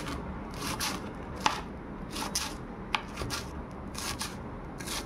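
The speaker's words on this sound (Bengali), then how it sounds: "এবার কাঁচা লঙ্কাগুলো কাটছে" A knife chops green chillies on a board in a home kitchen. The cutting comes in quick bursts, with a few sharper knocks in between. It sounds close and fairly quiet, and nobody talks.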